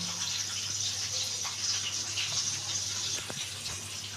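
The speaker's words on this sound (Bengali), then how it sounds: "আর এই বাটিটা একটু ধুয়ে জলটা নিয়ে নিলাম" Water runs and splashes while a small bowl is rinsed, a steady close rushing wash over the few seconds.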